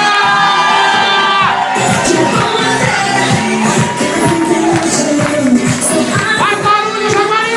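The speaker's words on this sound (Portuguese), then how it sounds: "Quem gostou, levanta a mão e grita!" A drag show audience on a Saturday night in Jaguariúna shouts, whoops and cheers loudly with raised hands, a dense crowd roar of many voices, including high-pitched shrieks, swelling and persisting throughout.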